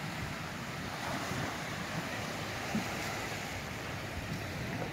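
Black Sea waves washing onto the beach at Anapa near the Anapka river, a continuous soft surf roar mixed with wind buffeting the microphone, fairly quiet and steady.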